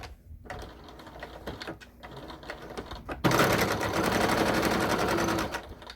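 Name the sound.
sewing machine top stitching a fabric wallet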